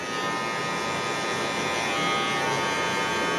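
Electric hair clippers buzz steadily and loudly close up while a barber fades a high taper, the motor's whine holding constant throughout with no speech.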